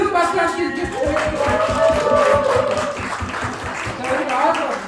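Audience clapping at a winter workshop discussion session in Korea, a steady crowd applause that overlaps with talking voices throughout.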